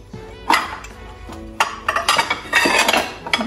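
Concave ceramic plates are set into a covered plastic dish rack, giving a string of clinks and clatters. One opens the run and a busier burst of knocks follows near the end, close up and loud.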